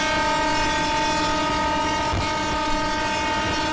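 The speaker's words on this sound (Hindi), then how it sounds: "सामने से गाइस एक और ट्रेन आ रही है।" Sustained, loud, steady horn blast from a Mumbai local train approaching on the opposite track, with clattering wheel and rail noise beneath it throughout.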